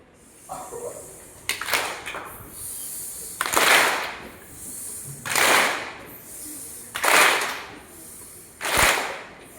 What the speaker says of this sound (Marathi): हा आता दुसरी रॉकेट टाळी.